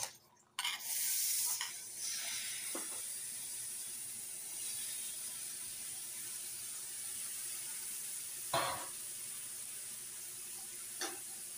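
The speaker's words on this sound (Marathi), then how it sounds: "ह्याच कढईमध्ये आपण ओला मटर पण भाजून घेणार आहे" Steady soft sizzling of fresh green peas roasting in a kadhai, close by, with an initial burst of hissing and a few scattered scrapes and taps of a utensil.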